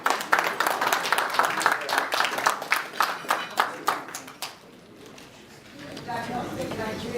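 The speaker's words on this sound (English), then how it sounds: "A round of applause for him." Clapping from a conference audience greets a radiologist medical director at an annual general meeting, brisk and uneven, stopping after about five seconds before a voice begins to speak.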